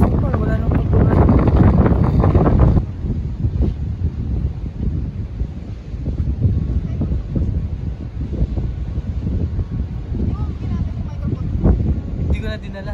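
Wind at the seaside in Sur, Oman, gusting hard against the microphone as a loud, low, rumbling buffet that eases after a few seconds but keeps rushing and flapping throughout.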